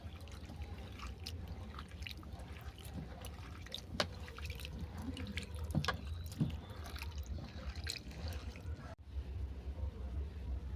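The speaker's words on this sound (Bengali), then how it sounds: "আবারও আমি রাঙালুটাকে পরিষ্কার জল দিয়ে ধুয়ে নেবো তবে একবার ধুলে হবে না বারবার জল পাল্টে পাল্টে ধুতে হবে" Sweet potatoes being rinsed in a basin of clean water, with steady sloshing, trickling and dripping close by through a low background rumble and a brief thump near the end; no one speaks.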